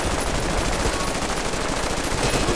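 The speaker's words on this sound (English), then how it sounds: "Let's go shoot this guy." Continuous automatic gunfire in Battlefield: Bad Company 2 Vietnam, a loud dense burst of rapid shots with overlapping fire filling the whole stretch, no voices.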